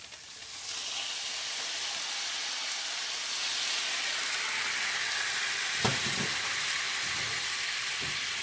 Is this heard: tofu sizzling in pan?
yes